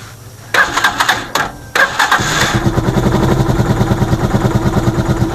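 A vehicle engine on a cold day cranks in a few short starter bursts, catches after a couple of seconds and settles into a close, steady rhythmic idle.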